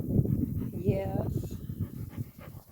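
Two four-month-old puppies on a homestead pant rapidly and let out a thin, rising whimper, close by, while a person talks over them.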